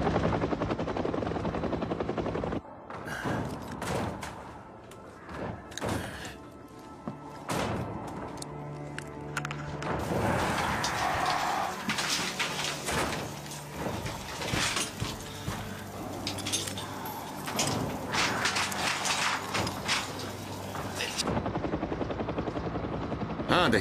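A helicopter in a dubbed zombie-apocalypse action-horror film gives a steady, loud rotor drone through most of the scene. Heavy thuds and bursts of noise are mixed in, with faint voices in the background.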